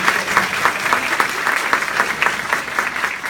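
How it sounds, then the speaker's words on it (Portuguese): Audience at a nursing debate applauding a speaker, a lively patter of many hands clapping at a steady, close level with slightly uneven peaks throughout. "uma salva de palmas para a Solange"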